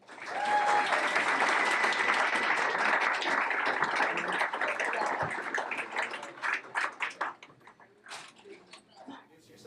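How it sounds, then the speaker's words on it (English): A crowd at a battle of the bands event claps and cheers loudly for performers coming onstage, the dense applause thinning into scattered claps toward the end. "So why don't you guys give a warm applause to KK?"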